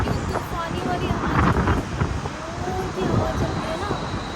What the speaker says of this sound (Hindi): तूफानी वाली हवा